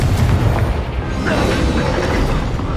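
A Confringo fire spell explodes in Hogwarts Legacy, a loud, dense booming blast with rumbling debris that fills the whole moment amid continuous game combat noise.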